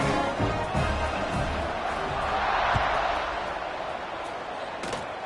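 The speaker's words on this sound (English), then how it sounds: "this crowd is buzzing after that last score" A football stadium crowd buzzes after a score, a broad sustained murmur of many voices with scattered cheers and thumps, fairly distant and even throughout.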